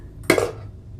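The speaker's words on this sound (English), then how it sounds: "It's like fingers on a chalkboard. My little metal spatula." A small metal spatula gives one short, shrill scrape, close and sharp, lasting well under a second against a quiet background.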